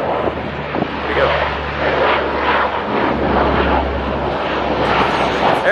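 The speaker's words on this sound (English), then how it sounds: "Airplanes." Fixed-wing airplanes pass overhead, a broad steady engine roar outdoors beside a parked Lexus IS300 SportCross under repair, with wind buffeting the microphone and a person talking briefly.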